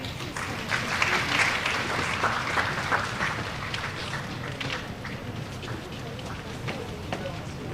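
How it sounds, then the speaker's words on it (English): A large audience at a university day awards ceremony claps steadily, loud at first and easing slightly, a continuous crowd of hands with distinct claps standing out. "Keep the applause going."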